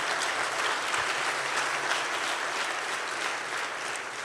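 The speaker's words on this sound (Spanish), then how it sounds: "Vamos a darle fuerte ese aplauso al Señor." Church congregation applauding, a loud, sustained burst of many hands clapping at close range, with a dense even texture that eases slightly at the end, and no speech over it.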